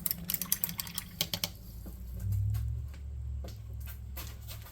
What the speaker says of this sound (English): let's rinse that brush out